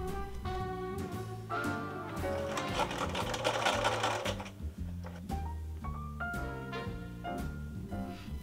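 A sewing machine stitches spaghetti straps for a gingham Barbie doll dress, whirring in several bursts of different lengths with brief pauses between runs.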